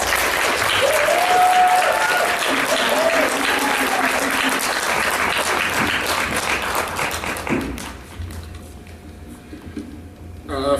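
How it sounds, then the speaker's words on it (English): An audience at a county mental health awareness event applauds in a dense, close round of clapping for about seven seconds, which then thins out and fades to quiet. "I'd like to thank you for that little round of applause that you just gave me"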